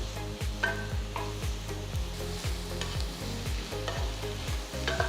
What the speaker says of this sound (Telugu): టొమాటోలు బాగా మగ్గేంత వరకు వీటిని వేయించాలి.